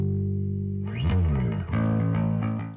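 A bass tone runs through the United Plugins Quick Bass plugin with warm, tubey distortion, sustained buzzy low notes shifting pitch over a few seconds, with no talking.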